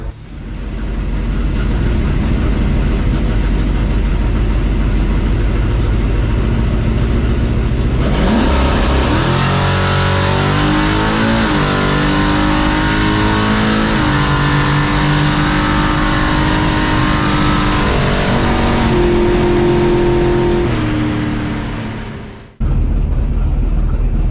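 A street truck at a drag race: low engine rumble, then a loud rising rev and hard acceleration through the gears, the roar sustained close by before cutting off abruptly near the end.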